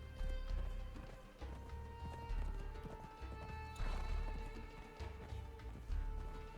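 A horse in the video game Conan Exiles gallops with loud, rhythmic clip-clop hoofbeats that run continuously, with a brief whinny partway through.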